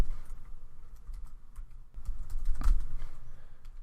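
Steady typing on a computer keyboard while AngularJS code is entered, close-up and continuous with a rapid run of key clicks and a louder thump near the end.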